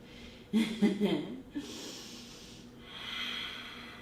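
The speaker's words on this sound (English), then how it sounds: "We'll just take 3 or 4 breaths here." Deep breathing during a yoga knee-strengthening exercise: a few close, audible inhales and exhales with snorting, hissing air through the nose, followed by a longer, softer breath out.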